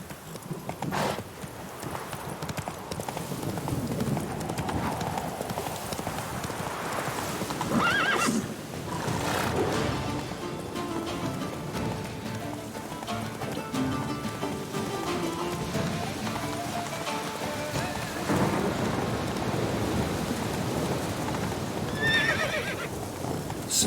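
A horse in The Witcher 3 gallops with steady clip-clop hoofbeats and lets out a couple of neighs, over a constant rain-like patter.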